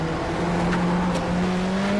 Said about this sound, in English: you get to hear the engine of that that BMW roaring